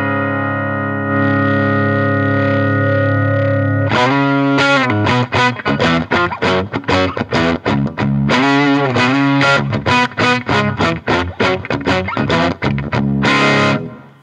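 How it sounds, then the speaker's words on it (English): Electric guitar played through a cranked amp with no gain pedal: a sustained distorted chord rings out, then a run of punchy, percussive overdriven riffs with short gaps, loud and close. "Now I'm going to crank up the amp itself, no gain pedal"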